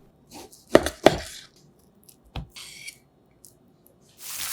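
A knife cuts through a fillet of Costco salmon into thick 1.5 cm slices, giving two close, sharp strokes and a quieter third, with soft handling noises between and no voices.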